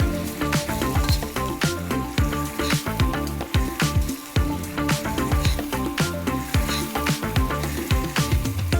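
Chilli powder stirred into chicken curry in a hot pan, loud close sizzling with repeated scraping stir strokes in an uneven rhythm and a brief pause midway, no speech.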